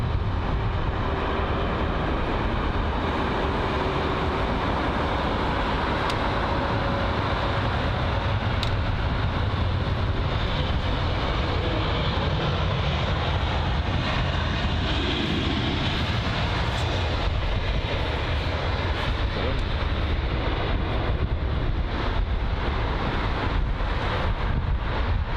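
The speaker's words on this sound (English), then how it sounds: "Got the BA Airbus aircraft about to land at runway 27 right." A British Airways Airbus airliner lands on runway 27 right at London Heathrow, a broad, steady engine roar heard from a distance. Wind buffets the microphone and the rumble holds at a constant level throughout.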